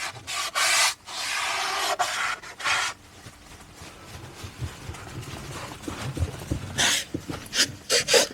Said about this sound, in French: je fais le premier nettoyage à la main, toujours avec l'éponge magique